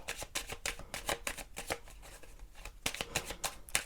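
A deck of tarot-style cards is cut and shuffled by hand, giving a close, rapid flurry of crisp riffling slaps and flutters in bursts.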